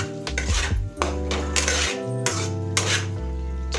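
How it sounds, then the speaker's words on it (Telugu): Onions with chili powder being stirred in a pan produce repeated scraping and clinking of a utensil against metal, close and fairly loud, over a tonal background. "ఇప్పుడు ఒకసారి దీన్ని మిక్స్ చేద్దాం."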